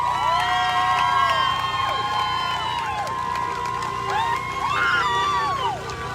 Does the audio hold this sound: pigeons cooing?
no